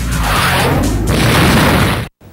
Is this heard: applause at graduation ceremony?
no